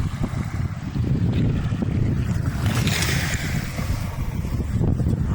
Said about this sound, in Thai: แล้วก็มีคลื่นน้ำทะเลอยู่เนี่ยซัดมาเป็น ระลอกคลื่นเลยนะครับ